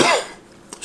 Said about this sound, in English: still getting over the sickness, the cough that I've had